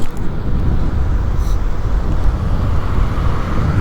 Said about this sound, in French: En plus on se fait dépasser par les voitures.